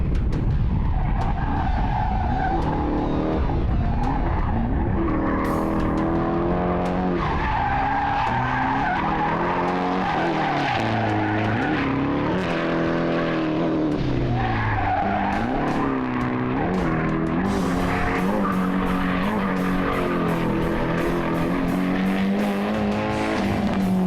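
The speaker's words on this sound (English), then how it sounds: "One more time drifting in slow motion." A car drifts at speed with loud, continuous tire squeal and a revving engine rising and falling, close and sustained with no talking.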